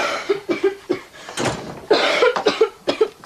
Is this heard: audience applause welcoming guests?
no